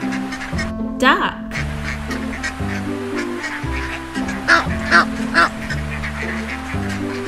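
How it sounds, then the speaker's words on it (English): A cartoon duck quacks in a run of short nasal bursts over cheerful children's background music, close and clear. "Duck."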